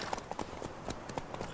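Horses' hooves clip-clop unevenly as the riders descend a slope in an audio drama of The Witcher, with moderately close, quiet, irregular hoof falls and no voices.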